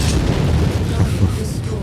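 A volley of missiles explodes in a MechWarrior battle as a continuous, heavy rumbling barrage of booms, with a voice speaking over it.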